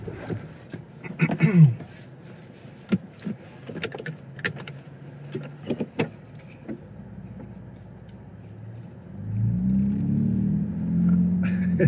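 A Gen 6 Ford Bronco's exhaust while driving: scattered knocks and clunks give way to a steady low engine drone that swells near the end, with no talk over it.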